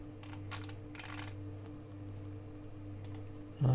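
Computer keyboard typing: faint, scattered bursts of quick key clicks over a steady electrical hum in a quiet room, with a brief louder tone right at the end.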